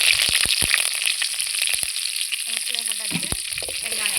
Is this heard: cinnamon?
yes